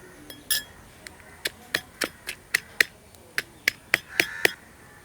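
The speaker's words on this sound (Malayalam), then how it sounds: "ഇതാ ഈ ഒരു രീതിക്ക് ചതച്ചെടുത്താൽ മതി കേട്ടോ" Garlic, shallots and coriander leaves pounded to crush them, a steady series of sharp knocking thuds, about a dozen evenly spaced close hits, with no talk.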